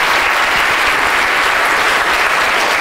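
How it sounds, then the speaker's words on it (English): Sustained, loud applause from a seated audience for volunteers on stage at a science talk about the brain, dense and steady throughout with no talk over it. "Round of applause for our guests."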